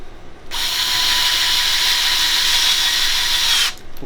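A power drill drives a screw into the vent pipe of a tankless water heater, a steady loud whirring burst of about three seconds, close up, with no talk.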